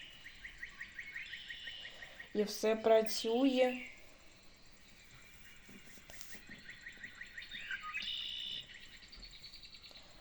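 Recorded birdsong chirps and trills play from a tape recorder in Kharkiv, thin and repetitive in the background, while someone speaks briefly over it partway through.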